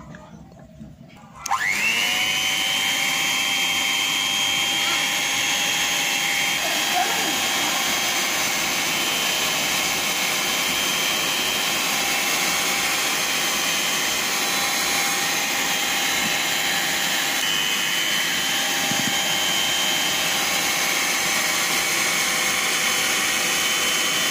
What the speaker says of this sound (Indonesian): lalu bahan-bahan ini kita mixer sebentar